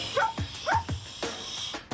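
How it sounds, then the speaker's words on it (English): Outback trucker's dog Bella barking during trailer hitching, a few short sharp barks spaced out over idling engine noise, moderately close. "She gives me a certain bark when I'm hooked up."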